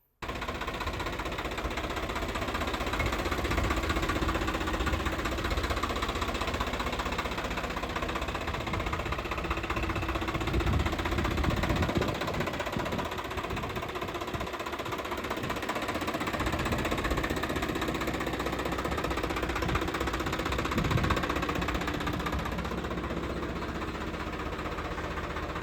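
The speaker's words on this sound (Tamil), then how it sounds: "இந்த டிராக்டர் சுராஜில் 744 எஃப்இ 4 வீல் டிரைவுங்க." A 2023 Swaraj 744 FE four-wheel-drive tractor idling, its diesel engine giving a steady, dense rumble with faint knocking that holds even throughout, with a brief swell in the middle and no talking over it.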